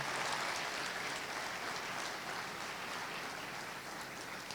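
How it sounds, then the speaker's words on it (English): Audience gives a speaker a round of applause, a steady wash of many hands clapping at moderate volume, sustained without pause. "Let's get another round of applause for Mr."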